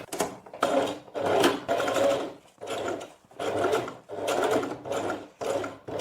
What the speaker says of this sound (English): So I'm going to stitch here.